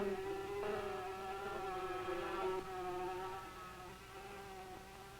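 Honeybees at the hive with workers fanning air in from outside, a continuous close buzzing drone with steady pitch and slight shifts in tone, moderately quiet and with no voices.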